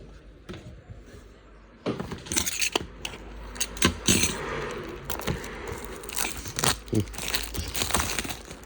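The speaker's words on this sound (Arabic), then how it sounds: "رح نفتح هذا الباور" Crinkling plastic and cardboard packaging rustles, tears and scrapes as a 10,000 mAh power bank is unpacked, with sharp close handling bursts over a quiet room.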